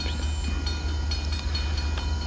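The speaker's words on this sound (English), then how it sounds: "when the gates go down and the train goes through town" Low steady rumble of a CSX train rolling through town past lowered crossing gates on the St. Lawrence Subdivision, with faint rhythmic clacks and a constant mechanical drone, moderately close.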